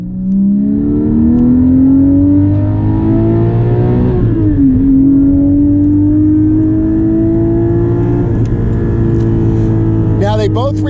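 A Porsche 718 GT4 with a manual gearbox accelerates hard, its engine note climbing steadily and loud, dipping briefly at an upshift, then rising again before easing off near the end.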